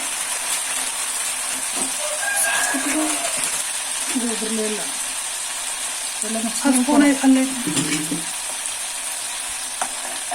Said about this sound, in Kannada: ಈಗ ಮೆಂತ್ಯ ಪುಡಿನ ಹಾಕಿ ಚೆನ್ನಾಗಿ ಕುದಿಬೇಕು